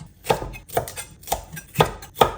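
A knife chops red and yellow peppers into chunks on a board, five distinct close, crisp thuds in an even rhythm with quiet gaps between.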